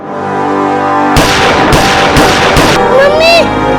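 Gunfire in a Hindi crime drama reenactment: a rapid cluster of four or five loud, sharp shots over a steady background, followed by a rising tonal sound.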